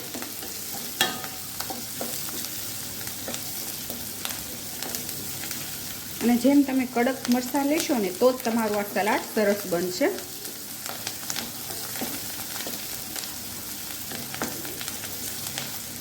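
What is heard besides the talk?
green chilies frying in a little oil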